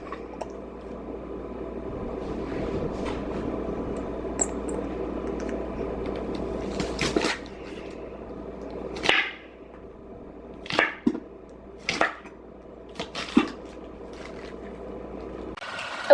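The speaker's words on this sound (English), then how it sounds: "And I just need to finish chopping up these onions." A knife chops onions on a cutting board in sparse, sharp, close knocks that come in small clusters, louder in the second half, over a steady low kitchen hum.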